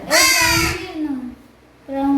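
A crow chick gives two harsh, nasal caws, one drawn-out and one short, heard close and loud with a brief pause between them.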